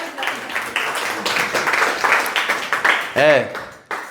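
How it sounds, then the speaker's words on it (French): An audience applauds at a free stand-up comedy show, with dense, steady clapping and voices speaking and calling out over it, including one sharp shout near the end. "On applaudit Walim encore une fois."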